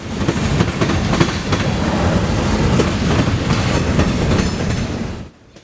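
A freight train with a long string of 86-foot boxcars rolls past close by in Decatur, Illinois, loud and continuous with rhythmic clacking of wheels over rail joints, fading abruptly at the end.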